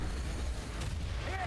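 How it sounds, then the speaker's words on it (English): Bombs detonating over and over in a chaotic co-op video game, a dense, steady rumble of game explosions that fills the whole stretch, with faint tonal effects rising near the end. "I'm throwing as many bombs as I can find on the floor."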